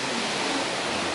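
Heavy rain falls during a rural weekend at night, a dense, steady, close roar of broadband wash that fills the whole short stretch without pause or voices.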